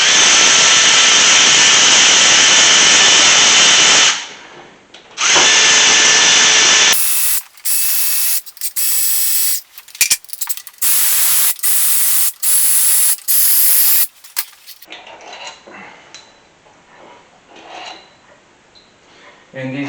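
Cylinder head bolts pulled from an engine during valve-leak repair work, heard as a run of short, loud, hissy metallic bursts and ratcheting clatters in quick succession, close by, followed by quieter handling noise with no talk.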